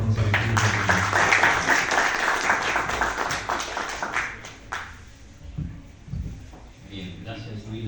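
Applause greets professor Goya Torres at a lecture event: dense clapping fills the first few seconds, loud and steady under talk, then fades out to quieter room sounds and scattered voices.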